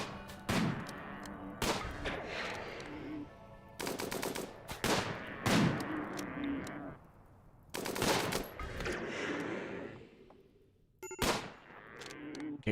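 Bursts of automatic and single-shot gunfire in a video game, arriving in loud clusters with short gaps between them, with a little faint talk underneath.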